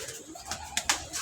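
Pigeons cooing softly among a loft of flying pigeons, a few low murmuring calls with brief sharper flutters or sounds in between, fairly faint and close.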